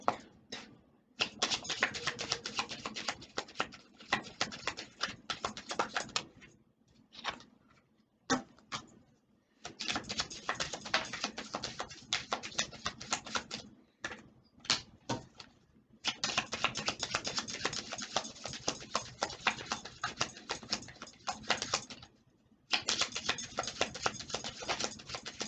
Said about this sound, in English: I hate shuffling, but it is necessary, so I have to do it.